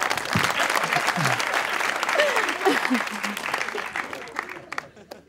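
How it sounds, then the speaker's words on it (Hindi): A studio audience applauds during a live Pakistani television talk show, the clapping dense and sustained, then thinning and fading toward the end, with a few voices mixed in. "ताली बजाओ"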